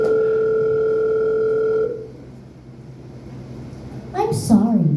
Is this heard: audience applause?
no